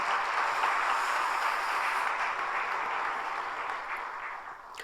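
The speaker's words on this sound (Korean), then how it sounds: "함께 박수해 주시겠습니다" A church congregation at a Friday all-night worship service claps together, a broad continuous wash of applause that holds steady and then eases off slightly near the end.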